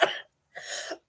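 Two close, dry coughs, one short and then a slightly longer one, separated by a brief silence.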